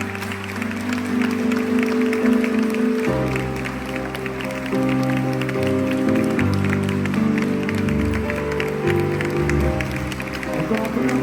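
Applause from a concert audience in Fécamp for a choir performing alongside a tenor, with steady clapping rising over lingering sustained musical tones and faint background voices.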